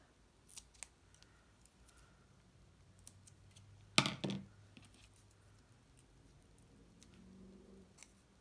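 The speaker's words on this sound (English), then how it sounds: "I'm going to have to cut my foam tape." One short, crisp snip of scissors through foam tape, close and fairly loud against a near-silent room, with a few faint clicks and rustles before and after.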